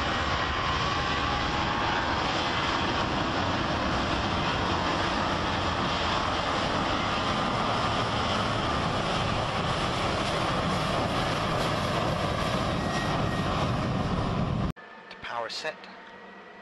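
Boeing 737 engines in a flight simulator roaring at high takeoff power, a loud, steady broadband rush that holds for about fifteen seconds before cutting off abruptly, followed by a brief faint sound.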